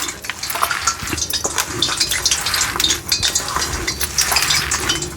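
Hands squishing and kneading a thick, spiced masala vada batter of leafy greens, gram flour and rice flour: irregular wet squelches and soft slaps, close and continuous, with faint clinks.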